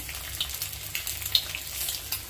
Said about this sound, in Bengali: না ব্রেকফাস্ট এখন ডিমের পোচ হচ্ছে, বসিয়ে দিয়েছি।